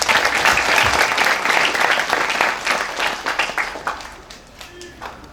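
A large gathering at a night haul religious commemoration applauds loudly for the Banser guards, the dense clapping holding strong at first and then thinning into scattered, separate claps as it fades.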